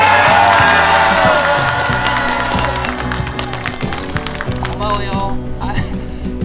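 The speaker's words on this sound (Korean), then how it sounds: "좌우에 한 3초만 함성과 함께 박수로 하십시다" A protest rally crowd outside a police station in South Korea cheers and claps on cue, a burst of shouts and applause mixed with a loud amplified voice, then thinning slightly.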